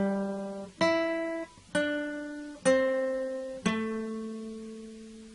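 Four plucked guitar notes from the Jingle Bells verse ring out one after another at an unhurried pace, each sustaining and fading, played clean and fairly quiet.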